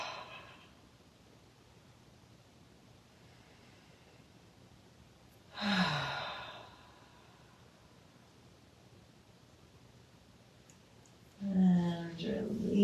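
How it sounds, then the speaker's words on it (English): Two slow, deep breaths during a winter yoga session, each a soft, close exhale out the mouth, separated by quiet room tone. "Deep inhale through the nose, exhale out the mouth."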